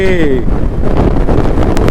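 Strong wind buffets the microphone during a motorcycle ride, a loud, steady low roar throughout, with a voice speaking briefly at the start.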